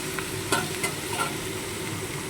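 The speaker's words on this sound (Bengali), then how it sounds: "এবারে দেখো লাল লাল করে ভেজে নিয়েছি" Small river fish (patasi and three-spined fish) and vegetables fry in a pan with a dense, even sizzle. A few sharp stirring scrapes come at intervals.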